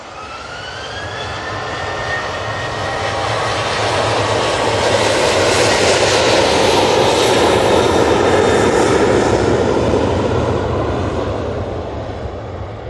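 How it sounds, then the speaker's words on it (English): A Ryanair jet takes off bound for Belfast, its engine roar swelling steadily to a loud peak mid-way and then easing slightly, a broad continuous rumble with no voices over it. "Ryanair, Turn and Burn. This is off to Belfast."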